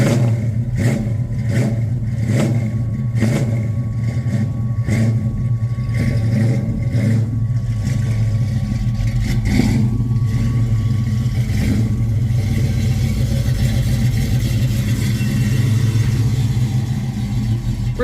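A 1968 Dodge Charger's engine runs loud and close as the car rolls onto a lift, a steady throaty rumble with rhythmic clattering and low revving, no voices.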